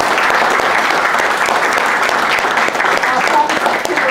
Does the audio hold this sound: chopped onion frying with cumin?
no